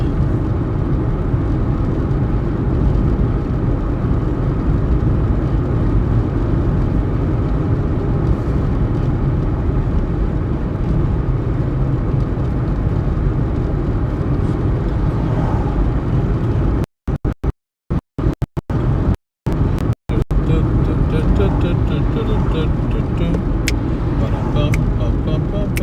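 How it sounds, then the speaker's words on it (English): A 1999 Toyota Corolla drives along with a loud, steady road rumble and engine drone filling the cabin, interrupted by a few brief dropouts, and a person talks over it. "I am in a 1999 Toyota Corolla."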